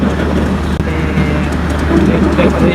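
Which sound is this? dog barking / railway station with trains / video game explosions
railway station with trains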